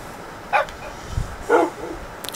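Wolves in the video game Minecraft let out short synthetic barks and yips, two brief bursts spaced about a second apart, moderately loud over a quiet game background.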